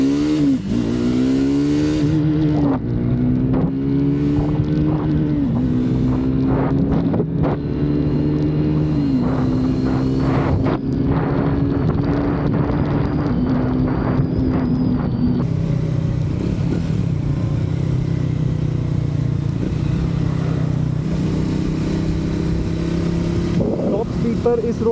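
On a road test ride checking a motorcycle's pickup, the rider's engine revs up through the gears in repeated rising pulls. The engine note stays loud and close throughout, with wind rush underneath.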